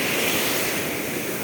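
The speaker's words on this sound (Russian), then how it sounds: "Вот такие вот волны." Stormy sea surf on the beach at Dzhemete in strong wind makes a continuous loud broadband roar of breaking waves and wind, with no voices.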